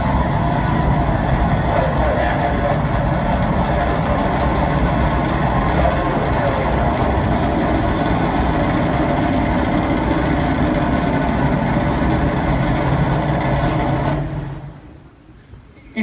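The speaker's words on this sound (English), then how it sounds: "booster ignition, and liftoff" A deep, continuous roar of rocket booster ignition and liftoff rumbles steadily for about fourteen seconds, then abruptly cuts off into near silence.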